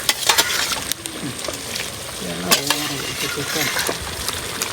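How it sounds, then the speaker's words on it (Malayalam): Cooked chicken is scooped into gravy in a home kitchen pan, bringing close clinks of a spoon against metal and a steady sizzle, with a voice talking underneath. "ആ ചിക്കൻ ഒന്ന് അതിനകത്തോട്ട് ഗ്രേവിക്കകത്തോട്ട് ഒന്ന് വാരി ഇടുകയാണ്"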